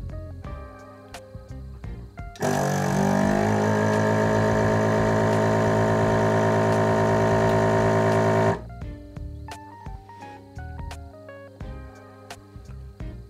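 A Quick TV2 desoldering station's vacuum pump runs for about six seconds with a steady loud mechanical hum, switching on and off abruptly between quieter clicks.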